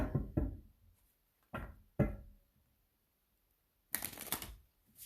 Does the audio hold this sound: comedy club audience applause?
no